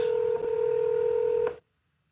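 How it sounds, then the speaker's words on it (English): Telephone keypad dialing tones sounding steadily while a call is placed on a phone, a continuous tone lasting about a second and a half before cutting off abruptly into silence. "I'm just gonna go over here and paste that into the phone box and call them"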